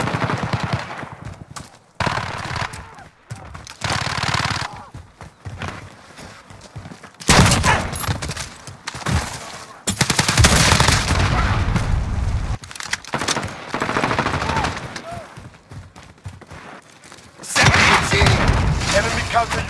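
Gunfire in Call of Duty Modern Warfare during a team deathmatch, with dense, loud bursts of rifle and machine-gun fire and booms broken by short lulls, and in-game voice callouts over the shooting.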